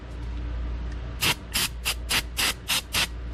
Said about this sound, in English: Take a little brake cleaner,